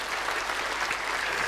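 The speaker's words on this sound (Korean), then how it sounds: "이럴 때는 박수가 나와야 돼요." Church congregation applauding in a sanctuary, a steady dense wash of many hands clapping at once, sustained evenly throughout without voices.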